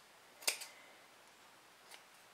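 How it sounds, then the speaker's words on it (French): Small scissors snip loose sewing threads on a fabric pouch, one crisp close snip followed by a faint second click, then near silence. "Ici, je vais découper mes petits fils qui dépassent."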